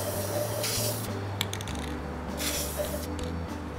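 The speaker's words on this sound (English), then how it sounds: "what I'm using is Rust-Oleum Universal Advanced Formula Hammered Paint and Primer in 1, and I'm using the dark bronze color" Rust-Oleum Universal hammered paint and primer in dark bronze hisses from a spray can in several short bursts, close and steady, with small clicks of the nozzle between sprays during outdoor Christmas patio decorating.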